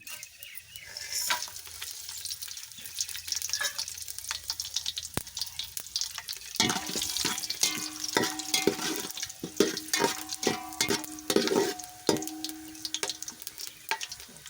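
Whole spices such as cloves and cardamom frying in hot oil for chicken biryani, a steady close crackle with clinks of stirring and a few sharp tonal scrapes from the pan, no voices.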